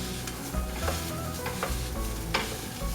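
Ground meat for lasagna sizzles in a hot pan, with a steady frying hiss broken by several sharp scraping stirs of a utensil at irregular intervals, close and alone.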